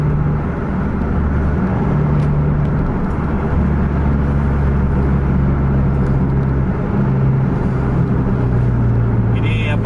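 A Scania bus races along a road with its engine holding a deep, steady rumbling drone, along with faint rushing road noise, close and continuous.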